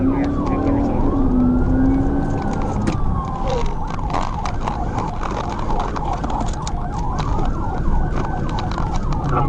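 A police patrol car's siren wails in rising and falling sweeps during a high-speed pursuit, loud and continuous over heavy road and engine rumble.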